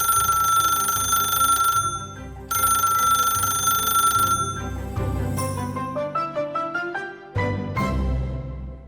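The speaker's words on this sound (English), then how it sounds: "finally the phone rang" A telephone ringing in repeated bursts of bright electronic tones, then a descending run of chiming notes and a final ring, loud and alone with no voices.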